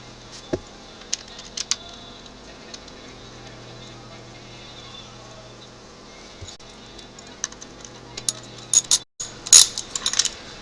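Bolts being tightened by hand on a Suzuki motorcycle engine during a timing chain replacement: faint, sparse metallic clicks and ticks over a quiet background, growing into a cluster of sharper, louder clicks near the end.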